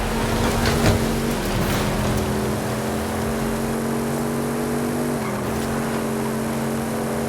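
Video-game engine drone of an Audi RS7 on a road, a steady mid-pitched hum that holds level and dips briefly near the end, with no one talking.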